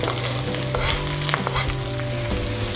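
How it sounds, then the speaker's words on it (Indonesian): Chopped onion sautés in a pan, giving a close, crackling sizzle with brief bursts of stirring and spatula scrapes across the short stretch. "Sekarang kita tumis bawang bombay terlebih dahulu."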